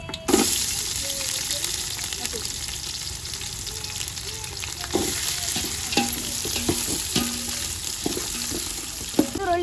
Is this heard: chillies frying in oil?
yes